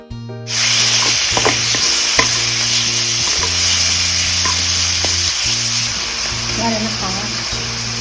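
Sliced pork belly stir-fries in a hot wok, a loud continuous sizzle with scraping stirs and clinks of a utensil close up, while a humming tonal background runs underneath.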